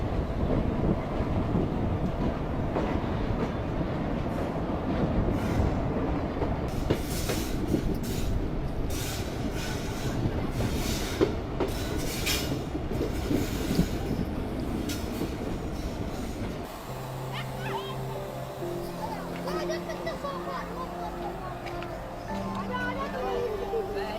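A passenger train on the Etah–Konch line in Jalaun district runs steadily on rails with a loud, continuous rolling rumble and rhythmic clatter, then a quieter interior stretch near the end where a voice talks.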